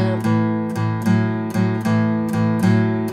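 Rhythmic strummed guitar chords in a steady 12-bar blues shuffle, sharp accents roughly every half second, close and clear with no voices.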